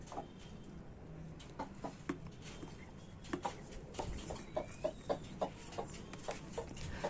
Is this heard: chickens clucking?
yes